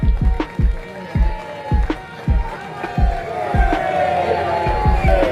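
Audience at a BJP political rally in Vadodara, with loud rhythmic thumping claps and cheering crowd noise building into a sustained roar.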